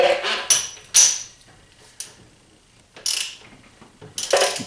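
A 17 mm ratchet wrench loosens the end cap on an XR650L motorcycle front fork, heard as several loud, close bursts of ratcheting clicks separated by short pauses.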